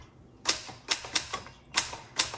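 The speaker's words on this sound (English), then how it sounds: "now I'm gonna type this in all caps and it'll look really funky" A 1966 Olympia SF travel typewriter types in all caps: five sharp, close keystrikes spaced about a third of a second apart, crisp and alone in a quiet room.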